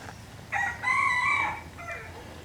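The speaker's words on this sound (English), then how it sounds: "That's Bob the rooster" A rooster crows once, a clear drawn-out call at moderate distance over quiet background noise, with no talking.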